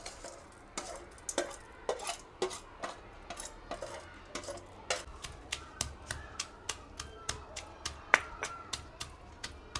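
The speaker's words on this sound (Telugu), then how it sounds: "పచ్చిమిరకాయలు కూడా వేసి దంచేయాలంట" Green chillies and roasted chana dal pounded in a stone mortar, a steady rhythm of sharp knocks and crunches about twice a second, close and clear over low background noise.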